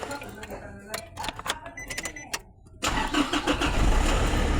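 A Nissan NV350 van's engine starts by flip-key remote: quiet clicks and someone talking give way to the engine catching and settling into a steady, loud idle rumble that runs to the end.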